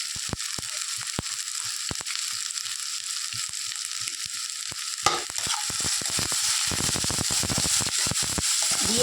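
Turmeric and cumin powder fry with ginger-garlic paste in oil in a pan, a bright sizzle punctuated by rapid spatula scrapes and taps, turning denser and more rattly halfway through as the stirring speeds up; no talking.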